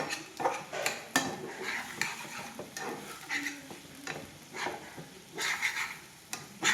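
Soy chili is stirred in a pan, with spoon scrapes and knocks on the metal coming in uneven bursts over a faint sizzle.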